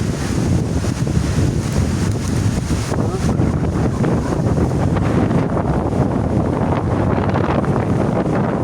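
Strong, steady wind roars and buffets the microphone continuously, a dense broadband rush with no pauses.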